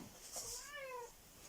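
A pet cat gives a single clear, rising-then-falling meow close by in a quiet indoor room, with no talking over it.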